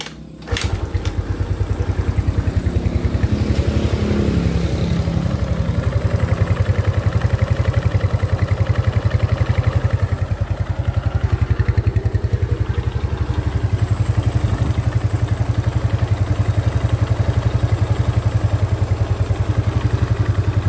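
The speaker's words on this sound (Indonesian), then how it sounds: "Nah, untuk suara mesinnya masih lumayan, tidak terlalu ngelotok atau kasar ya." A motorcycle engine is kick-started and catches, then runs at a steady idle with a light rhythmic clatter but no heavy knocking, loud and close for about twenty seconds.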